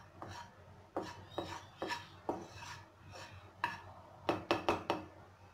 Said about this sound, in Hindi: डालूँगी लगभग 3 चम्मच आंवला पाउडर, और इसे हमें रोस्ट करना है